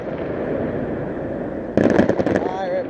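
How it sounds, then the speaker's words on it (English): Fireworks explode behind a chapel at an evening display in Strabane, 2015: a voice talks over a crowd murmur, then a sudden cluster of loud crackling bursts and pops follows close together. "Oh, you see the fireworks?"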